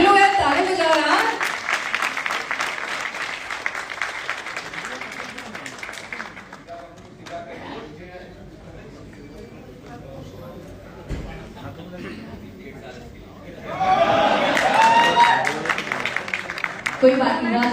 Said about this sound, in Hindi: सभी लोग यार ताली बजा रहे हैं।